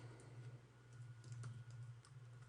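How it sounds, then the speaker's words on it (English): A file path being typed on a computer keyboard, with a quiet run of soft, quick key clicks over a low steady hum and no voices. "So now we're going to type in that path"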